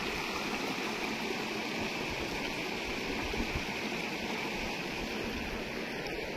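A river in the Konkan countryside, lined with green trees and surrounded by hills, flows with a steady, unbroken rushing wash of water. No voices are heard.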